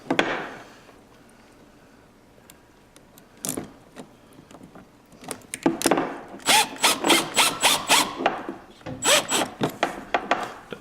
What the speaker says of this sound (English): Put our clamp back on.